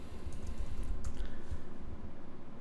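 Folder name being typed on a computer keyboard, a steady run of quick, close keystrokes clattering at an even pace with a few louder taps mixed in.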